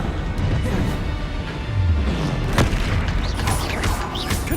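A Bombarda blasting spell detonating during a Hogwarts Legacy battle, a loud booming explosion with crashing debris over dense, continuous combat noise, followed by sharper cracks and bursts.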